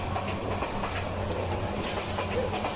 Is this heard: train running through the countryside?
yes